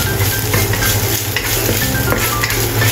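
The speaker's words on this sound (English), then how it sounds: "Stir-fry chopped ginger until fragrant." Chopped ginger stir-frying in a hot pan, a constant loud sizzle with scraping stirs and occasional clinks of a utensil, close and unbroken.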